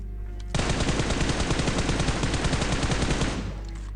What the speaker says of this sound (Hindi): ऊपर से कार 98 मारते जा रहा था